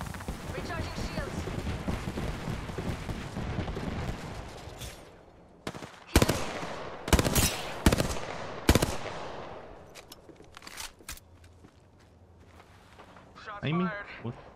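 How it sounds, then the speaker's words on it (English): Gunfire in the video game Apex Legends: several sharp, loud bursts of shots in quick succession mid-clip, following a stretch of game chatter and voices, with a voice returning near the end. "Shots fired. And they're hitting me."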